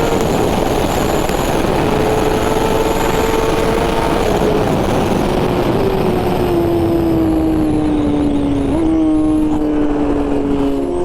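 BMW M1000RR superbike, 2021 model with an ECU flash, accelerating out of a turn on the road: a loud, close, continuous engine note whose pitch climbs steadily through the gears with brief drops at shifts, under heavy wind rush.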